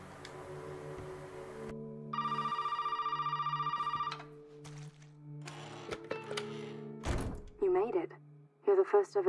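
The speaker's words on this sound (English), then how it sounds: "answer this phone call" A telephone rings in the video game Resident Evil 7, a steady electronic trill lasting about two seconds. Low game ambience hums underneath, and thuds and brief voice-like sounds follow afterward.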